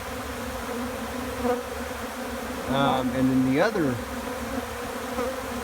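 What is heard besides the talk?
bees on a hive lid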